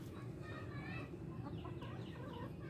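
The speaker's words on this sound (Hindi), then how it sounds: "चार हमारे पास मुर्गियां हैं और मैं सुबह इनको दाना डालने आया हूँ" Hens and a rooster in a backyard cage cluck and chatter in the morning while being fed grain, a busy cluster of short calls over a quiet, hissy background.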